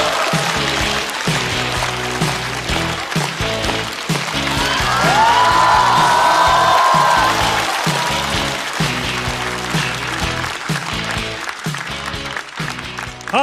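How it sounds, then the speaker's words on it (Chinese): A studio audience at a stand-up comedy show claps steadily and loudly for a comedian taking the stage, with a sustained wash of applause, a rising whistle-like cheer in the middle and faint music under the clapping. "掌声有请。"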